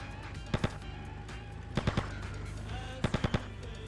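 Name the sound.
gunfire in the video game GTA Vice City Stories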